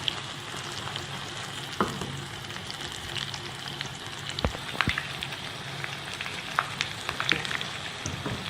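Chicken fries in oil over a low flame, giving a steady, close crackling sizzle with scattered sharper pops throughout.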